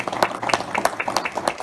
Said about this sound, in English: let's give them a loud applause